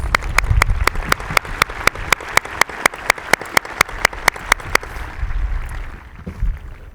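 Applause at a 2025 high school graduation ceremony, with one nearby clapper beating a sharp, even rhythm over the broader crowd before it fades out after about five seconds.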